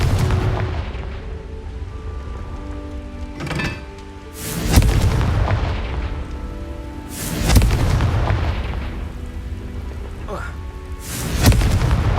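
Confringo fire spells burst in Hogwarts Legacy, with four heavy booming explosions spaced over a constant low rumbling background.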